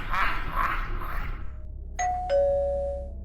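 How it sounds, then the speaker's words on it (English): A two-tone doorbell chime rings once, bright and clear, after a brief stretch of muffled background noise. "A doorbell ring?"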